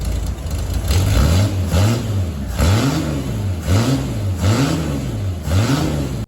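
A Holden Torana engine with a new exhaust revs repeatedly in a steady rhythm, each deep throaty rise and fall close and loud, with no one speaking.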